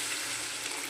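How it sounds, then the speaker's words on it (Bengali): Water hits hot oil and cooked-down spice paste for an amudi fish jhal curry, raising a steady, close hiss of sizzling and frying that holds evenly throughout with no voices. "এবার আমি জল দিয়ে দিলাম"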